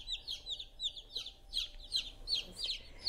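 A two-day-old black Australorp chick peeps in quick, high, repeated chirps, close and clear, with a faint low hum beneath.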